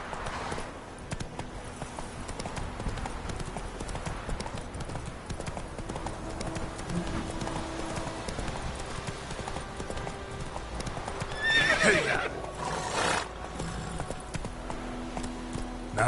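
Hooves of the horse Roach in a video game, a fast, steady clip-clop gallop running throughout over a bed of game ambience, with a short louder rushing burst near the end.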